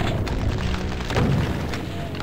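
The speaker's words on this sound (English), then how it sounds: "We got a rocket on him." A rocket explosion in the Doom video game, heard as a dull, heavy boom and rumbling thud that is steady, loud and close, with no talking.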